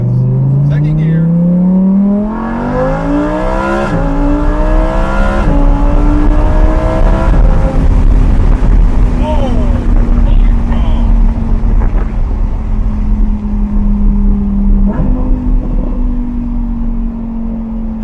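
Lamborghini Huracan EVO accelerating hard in second gear in Corsa mode, its engine note climbing steeply with gear-change steps, then settling into a loud steady drone heard from inside the car, with a voice speaking over it.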